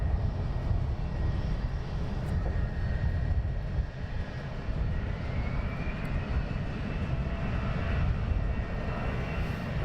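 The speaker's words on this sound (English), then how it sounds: "we have him taxiing down with the EasyJet about to depart, and then we have a Wizz Air taxiing out" Jet airliners, an EasyJet and a Wizz Air, taxi at London Luton Airport, producing a continuous broad engine roar with a faint whining tone that rises midway, heard from a distance outdoors without speech.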